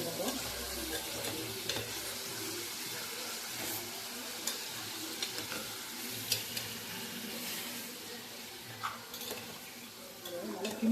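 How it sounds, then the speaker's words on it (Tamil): Chicken gravy frying in hot oil in a pan while a spoon stirs it, giving a faint, continuous sizzle broken by soft scraping and occasional light taps, heard quietly and close. "நல்லா கிண்டிட்டு இருக்கேன்"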